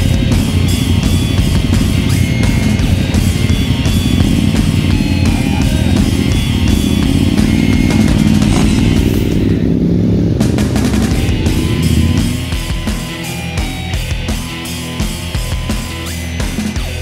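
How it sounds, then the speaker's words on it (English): A BMW R nineT Scrambler motorcycle engine runs loud and close with a dense, steady rumble that eases slightly toward the end. "This is the BMW R9T, isang kalamata metallic colored na scrambler."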